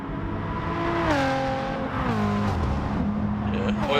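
Race car engines in an online racing game, including a Chevy, drone continuously, with pitch rising and falling through gear changes as cars run close together. Commentary can be heard faintly underneath.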